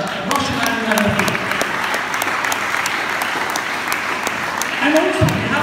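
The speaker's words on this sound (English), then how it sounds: "Can you have a round of applause for my brother, Roshan Anand?" An audience at an Eduram Academy event at GEM International School keeps up steady applause, while someone speaks over it at intervals.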